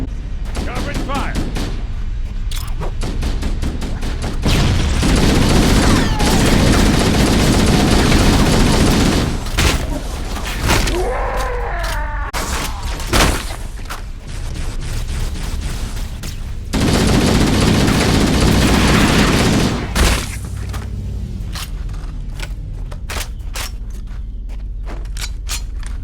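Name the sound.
gunfire in the video game Halo: Combat Evolved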